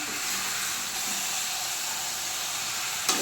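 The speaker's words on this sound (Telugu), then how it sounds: "ముక్కలకి బాగా మసాలా పట్టించి కొంచెం ఆయిల్లో మగ్గనిద్దామండి" Fish pieces coated in masala cooking in oil, giving a steady, loud sizzling hiss that continues without a break and has a brief clatter near the end.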